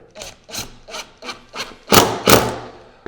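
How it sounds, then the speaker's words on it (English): A screw is driven by hand through the center hole of a router circle jig into wood, giving a series of rhythmic rubbing, grinding turns at about half-second intervals, close and clear, with the last two strokes louder. "we're going to attach our circle jig with just a screw and into that center hole that we established there"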